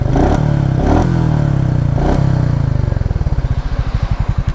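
A Royal Enfield Meteor 350 motorcycle engine blips loudly a few times, then settles into a fast, pulsing idle with a rhythmic chug, close by and alone.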